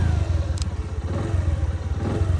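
Motorcycle engine idling after being repaired at a garage following a breakdown, a close, loud, steady low throbbing with rapid even pulses and a brief metallic tick partway through.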